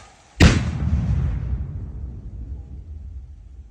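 Controlled detonation of leftover Cambodian ordnance by a bomb disposal team: one loud, sudden blast followed by a long, deep rumble that slowly fades over several seconds.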